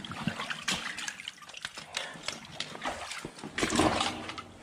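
Water splashing and trickling in a creek as a trapped wild mink in Pennsylvania is lifted out, with irregular close splashes and drips that are soft to moderate, and no talking.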